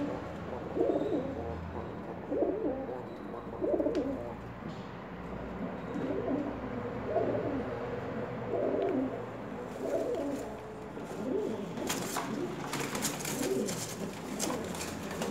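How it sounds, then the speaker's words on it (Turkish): An old male bird, one of several pet birds, gives repeated soft, low cooing calls in a steady rhythm throughout, with faint background noise and a little handling rustle toward the end. "Çok yaşlı bir kuş bu."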